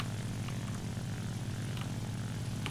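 Lavochkin La-9 aircraft engine in the video game War Thunder, a constant loud propeller drone with a deep throbbing rumble, unbroken and steady from start to end, without talk.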